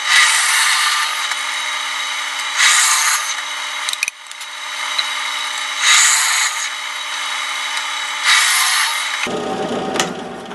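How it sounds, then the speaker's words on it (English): A power drill bores steadily into wood, its whine surging in repeated loud pulses for about nine seconds before cutting off into a brief rattle. "it'll drill farther into the wood horizontally because it's thicker in this dimension"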